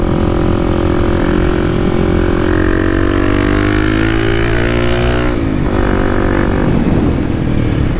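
Kawasaki KLX300 dirt bike climbing a mountain road in an uphill wheelie, its engine roaring loud and close, pitch rising steadily through the revs before dipping and climbing again, with wind rush.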